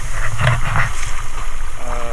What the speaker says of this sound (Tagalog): Yun na yung alon.